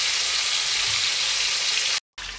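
Pork chop steak frying in a pan, a steady, close hiss and crackle of sizzling oil that runs unbroken, then cuts out briefly before resuming.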